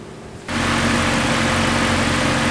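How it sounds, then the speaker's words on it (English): A car engine starts and settles into a steady idle while it warms up for camshaft adaptation, a loud, constant low hum with no voices. "It has to warm up a little bit to make the adaptation for the camshafts."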